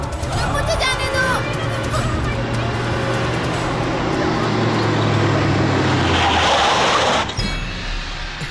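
A car moving along a road with a steady engine hum and road rumble throughout, a person talking over it inside the vehicle, and a brief burst of louder noise near the end.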